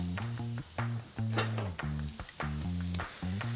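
Prawns sizzling on a barbecue in oil and butter, a steady hiss beneath a rhythmic series of low tonal pulses and a few sharp clicks, close and moderately loud.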